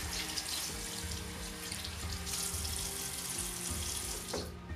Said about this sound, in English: I like to do two rinses, one with the warm water up, and then I do it with cooler water so it can close your pores.